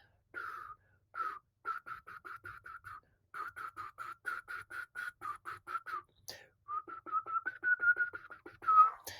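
A person practising whistling, producing a run of short, evenly paced whistled notes on inhaled and exhaled breaths, then a longer wavering tone, close and clear with no talking.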